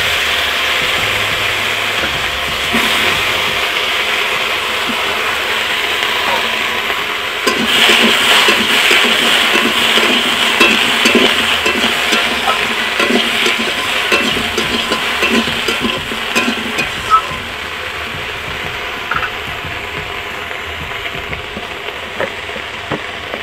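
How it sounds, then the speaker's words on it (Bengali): Vegetable frying in a kadai, a loud hissing sizzle that swells when the food goes in partway through, then continues rough and crackling with scattered scraping and stirring knocks; no talk. "তো ভেড়িটা আমি এখন কড়াতে উঠিয়ে দিচ্ছি।"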